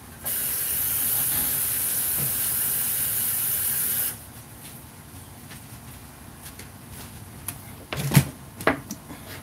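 Running tap water splashes over a scallion in a home kitchen, a steady hiss for several seconds that cuts off abruptly, followed by a quieter stretch with a few knocks and clatters.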